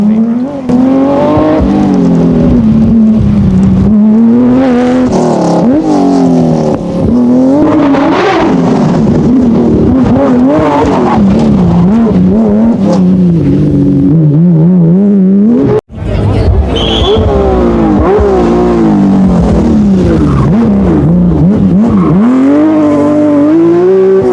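A BMW M1 Group B-era rally car engine roars and revs hard throughout, rising and falling with gear changes, loud and close, with a crowd murmuring beneath.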